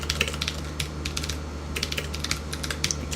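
Quick, irregular clicks of a computer keyboard as code is typed, close and clear over a low steady hum, with no voice.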